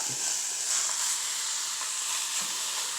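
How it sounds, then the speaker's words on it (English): Steady, soft sizzling hiss of turkey frying in a hot pot, continuous and close, with no talking. "Hear that sizzle? That's what we want."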